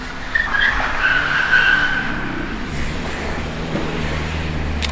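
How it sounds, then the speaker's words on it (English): A car doing donuts in a car park, its tires skidding and squealing in a long continuous screech over a low engine drone, heard from some distance. "doing donuts in the car park."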